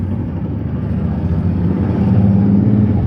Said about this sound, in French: C'est la moto.